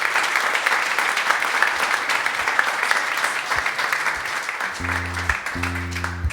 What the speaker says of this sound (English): That's a AAA clap.